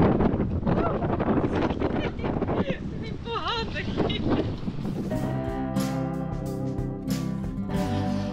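Strong wind blowing outdoors on a cold day in Turkey, a steady loud rush buffeting the microphone throughout, with a person talking over it and a tonal hum entering in the second half.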